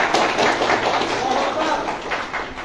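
An audience at an Islamic religious lecture claps together, a dense, continuous patter of many hands that swells and fades slightly across the brief stretch, with voices mixed in.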